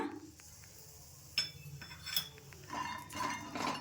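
A pan set down on a stove with a metallic clunk, followed by raw chickpeas tipped in, rattling and clinking against the metal in light bursts, close and moderately quiet with no talking.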